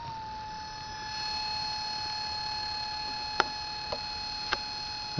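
A pulse motor running on a 9-volt battery, unplugged: a steady, faint high-pitched whine with a few sharp clicks spaced unevenly, alone without talk.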